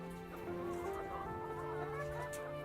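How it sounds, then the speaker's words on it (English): Dual-purpose chickens kept for both eggs and meat cluck and murmur softly on a farm, several overlapping birds calling steadily throughout at a low level, with no talking. "These are dual-purpose birds. They're good egg layers and pretty good meat birds too."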